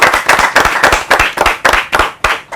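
Audience at a televised Ethiopian parents-and-children quiz contest breaks into several bursts of hand clapping, loud and close, rising and falling in waves without talk.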